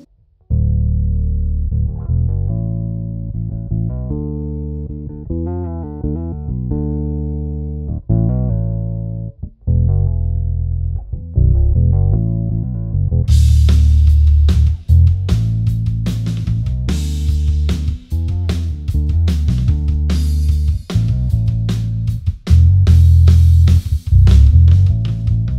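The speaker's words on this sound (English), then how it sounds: "The octave sub-bass sound is cool and does the job for me a lot" Bass guitar with roundwound strings played through an octave pedal, giving a deep sub-bass doubled tone; a melodic line of sustained notes, then a busier, punchier passage with sharper plucked attacks, loud and up close with no talking.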